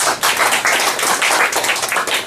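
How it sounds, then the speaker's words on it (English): An audience at a Toastmasters meeting breaks into close, lively applause, a crisp burst of many hands clapping that stays strong throughout. "give yourself a big round of applause."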